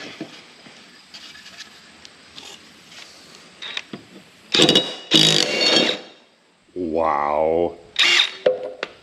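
An impact wrench takes the blades off a zero-turn mower deck in short loud buzzing bursts after quiet clinking, and a voice briefly exclaims near the end.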